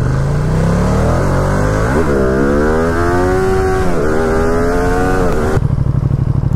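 A Ducati Streetfighter V2 naked superbike engine revs hard during a wheelie attempt, loud and close, its pitch climbing and dropping across two surges before settling into a rough idle burble.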